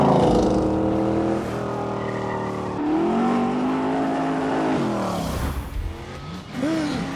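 A De Tomaso Pantera with an all-aluminium 7-litre 550-horsepower V8 roars in The Grand Tour Game, its loud engine note rising and falling through gear changes, with brief tyre squeal near the end.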